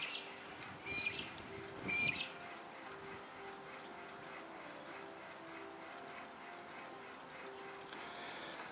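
Replica Lehmann concentric hot air engine running slowly on a small gas ring, faint soft rhythmic ticking and clicking with a light background hiss, no speech.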